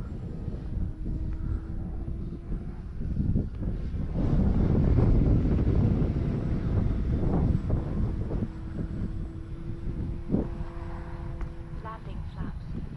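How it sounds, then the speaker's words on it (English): An FMS CJ-6 V2 radio-controlled model airplane cruises at half throttle, a distant, steady engine drone partly buried in gusty wind noise on the microphone. "Cruise along here at half throttle."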